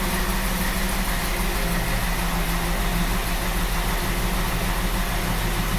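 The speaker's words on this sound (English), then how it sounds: "Idling pretty smoothly" A 1932 Ford coupe's engine idles steadily and smoothly, with a continuous, close, even rumble and no other sounds over it.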